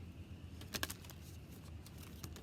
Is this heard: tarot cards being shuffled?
yes